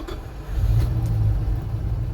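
A 1973 Dodge D100 pickup with a hot-start problem, its engine catching and settling into a low, close rumbling idle with a slight rise in revs.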